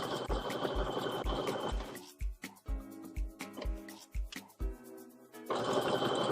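A sewing machine edge stitches around a sweatshirt in a zigzag stitch, a fast steady mechanical rattle that breaks into slower individual thumps midway before running at full speed again.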